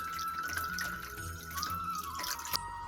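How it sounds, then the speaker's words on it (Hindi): Clean water is poured over a small deity idol to bathe it, giving close trickling and dripping with a thin running stream and a brief sharper splash near the end. "अब हम साफ पानी से, शुद्ध जल से इनको स्नान करवा देते हैं।"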